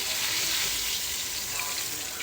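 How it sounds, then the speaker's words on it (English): Steak sears hard in a hot pan, giving a loud, continuous hiss of sizzling fat with no pauses or voices. "Get a real good sear on both sides."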